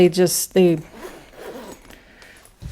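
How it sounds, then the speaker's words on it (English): Zipper on a planner-supply pouch drawn in two quick rasping pulls close up, followed by an adult speaking. "The zippers are amazing."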